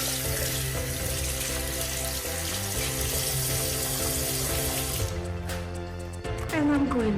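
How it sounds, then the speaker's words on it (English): Tap water running steadily into a sink during handwashing, a continuous loud rushing spray that shifts in tone partway through as the hands move under the stream. "I tried to wash my hands"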